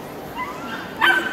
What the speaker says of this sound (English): this is a so-called Japanese dog, very special breed in Japan